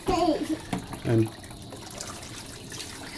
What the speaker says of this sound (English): dump out all the water.